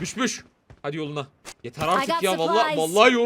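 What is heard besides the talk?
No distinct noise like a dog, phone or traffic.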